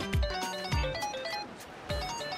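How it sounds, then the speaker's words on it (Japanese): Phone ringing in the Like a Dragon: Infinite Wealth video game, with three repeated tonal ring bursts over background game music. "電話鳴ってるみたいだぜ。"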